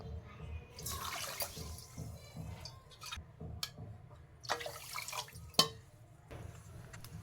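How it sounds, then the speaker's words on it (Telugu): Water is poured into a pot of sugar on a lit stove to make gulab jamun syrup, giving faint, intermittent splashing and dripping bursts close by. "ఒక కప్పు పిండికి రెండు కప్పులు పంచదార రెండు కప్పులు నీళ్ళు పోసుకోవాలి"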